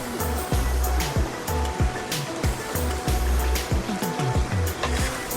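Water rushing and flowing at a waterfall, a steady dense roar with irregular low thumps and surges throughout, loud and close, with no talk.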